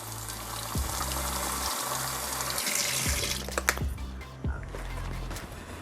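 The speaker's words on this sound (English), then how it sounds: "So I'm going to add a little hot water right to the top." Hot water from a tap running and pouring into a honey jar, a steady splashing flow with a low pulsing gurgle and a few small clinks near the end.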